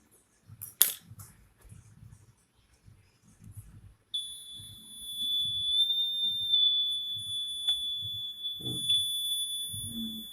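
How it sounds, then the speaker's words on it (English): After some soft handling noises, a high-pitched electronic buzzer in a laser security alarm circuit starts and sounds continuously, steady and piercing, with faint clicks underneath. "So that is why we are getting buzzing, buzzer sound."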